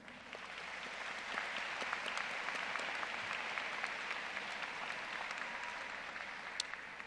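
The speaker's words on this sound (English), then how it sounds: "would you please join me in thanking the faculty of Lee College with a round of applause" A commencement crowd at Lee College applauds the faculty, a steady, even wash of many hands clapping that swells slightly early on and holds through the whole stretch, heard from a distance.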